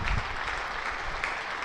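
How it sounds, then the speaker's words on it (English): Spectators around a county cricket ground at a Hampshire v Surrey Championship match applaud a young batter's first first-class hundred, a steady, distant wash of clapping that carries across the open ground. "Around the ground, everybody applauding the youngster."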